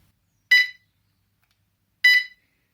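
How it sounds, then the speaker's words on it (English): Two short, harsh electronic beeps from the horn of a Hitway H5 electric bike, each about a quarter second long and sharply separated by silence, loud and close. "It has a horn, but it is the worst horn in the world."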